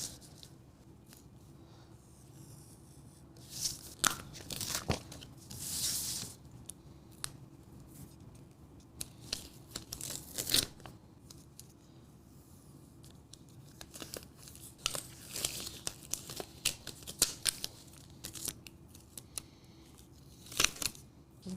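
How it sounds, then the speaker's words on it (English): Quiet, close snipping of scissors through excess heat-transfer vinyl, mixed with crinkling and peeling sounds as the sheet is trimmed and weeded, in irregular bursts over a faint background. "I am gonna cut off the excess of this vinyl and then weed it."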